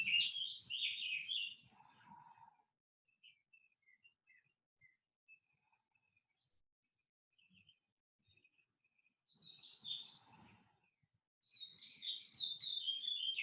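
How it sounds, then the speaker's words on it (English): Birds chirping and tweeting in short bursts, with quiet gaps between, sharp high calls fairly close in an otherwise still setting. "You hear those birds?"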